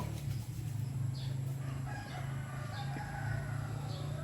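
Distant rooster crows recur several times over a steady low engine-like hum, faint and far off against constant background drone.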